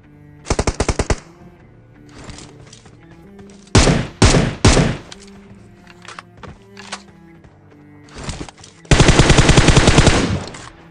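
M249 machine gun fire in the mobile battle royale BGMI comes in several rapid, loud bursts of varying length separated by pauses, close and prominent, with no talking.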